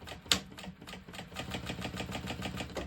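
A Juki sewing machine stitches through fabric with a fast, even mechanical chatter, preceded by a single sharp click, fairly quiet and close with no voice over it.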